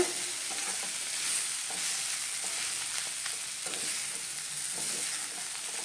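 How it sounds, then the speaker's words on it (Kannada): Cluster beans stir-frying in a pan, a steady close sizzle with intermittent scraping of a spatula stirring through, no talk. "ತುಂಬ ಹೊತ್ತು ಏನು ಬೇಡ, 1-2 ನಿಮಿಷ ಹುರಿದ್ರೆ ಸಾಕು."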